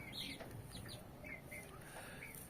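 Kuwaiti and Dandarawi chickens scuffle and cluck in a coop, with short squawks and brief wing flaps close by over a steady background hum.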